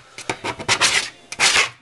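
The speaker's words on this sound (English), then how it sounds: "Take a scraper. Go through and scrape all that crap off of it." A hand scraper dragged across a crafting cutting mat to clear debris, producing about five close, raspy strokes of uneven length with short pauses between them.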